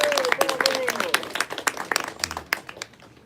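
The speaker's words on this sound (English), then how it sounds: "Let's give them a round of applause." An audience at a ribbon-cutting ceremony breaks into fairly quiet applause that slowly thins into scattered claps. A speaker's voice sits over the start of the clapping.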